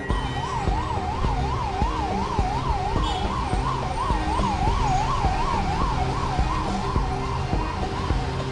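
An ambulance siren wails steadily on a road, rising and falling in a fast, regular warble over the rumble of traffic, fairly close and continuous throughout.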